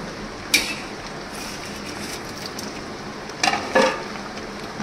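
Bitter gourd and lentil dumplings fry in a pan for shukto, a soft continuous sizzle broken by a few brief clattering stirs.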